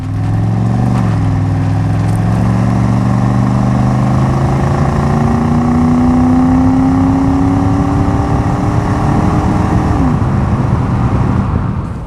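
A 1986 Chevrolet Camaro IROC-Z with the TPI 305 V8 revs up and pulls hard, its engine note climbing steadily through a long gear, then dipping at a shift and climbing again, loud and close.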